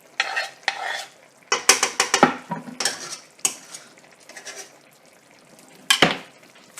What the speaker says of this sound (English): I'm just going to give that a gentle stir